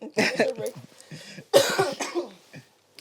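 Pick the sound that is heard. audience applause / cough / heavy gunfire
cough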